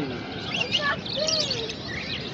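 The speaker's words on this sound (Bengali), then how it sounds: "এটা বদ্রি পাখি।" At a pet market in Baguiati, budgerigars chirp and warble in quick, overlapping high calls from nearby cages, mixed with some background voices.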